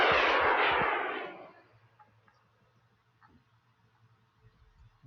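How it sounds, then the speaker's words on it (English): A TOW anti-tank missile fired at a BTR in a combat video game gives a loud roaring blast that fades over about a second and a half, leaving faint scattered ticks and distant rumbles. "TOW anti-tank is engaging a BTR"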